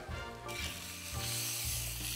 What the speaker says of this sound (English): And that's still sizzling away.